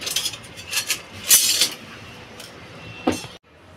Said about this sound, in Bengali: আসুন আমি আগে চাল কুমড়োটা কেটে নিই।